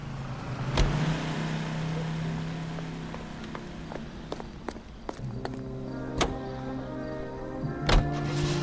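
A car driving in the 1940s Los Angeles crime game L.A. Noire, with a steady engine hum broken by several sharp clunks and thumps as it moves along; no voices.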